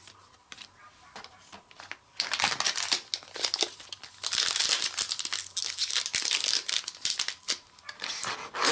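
Magic: The Gathering Commander Legends booster packs are torn open, with close, loud crinkling and crumpling of foil wrappers in irregular bursts that get denser and busier midway through.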